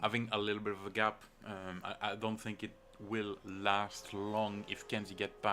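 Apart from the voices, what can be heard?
No everyday noise stands out behind the speech.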